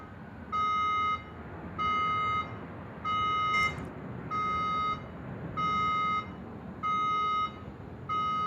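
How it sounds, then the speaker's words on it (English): A building alarm in a hotel beside Sydney Airport sounds loudly at night: a steady electronic tone pulses on and off in regular half-second bursts, repeating seven times over a low background rumble. "We have an alarm sound up here."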